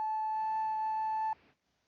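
A single steady electronic beep played in LMMS audio software holds for just over a second at a clear pitch with harmonics, then cuts off abruptly into near silence.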